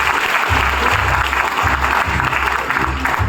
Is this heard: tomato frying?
no